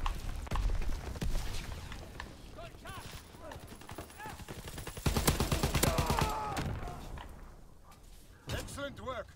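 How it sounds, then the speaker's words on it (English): Bursts of mortar and gun fire crash through a Call of Duty WW2 battle on PS4, heavy impacts around the middle and more blasts near the end, with voices talking over the chaos. "Enemy mortar fire incoming."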